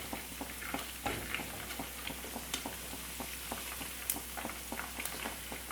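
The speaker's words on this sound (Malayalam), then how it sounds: "തിരിച്ചു മറിച്ചിട്ട് നന്നായിട്ട് ഫ്രൈ ചെയ്തെടുക്കുക." Battered chicken pieces deep frying in oil, a dense continuous bubbling sizzle with frequent small crackles and occasional sharper pops, close and steady, with no voices.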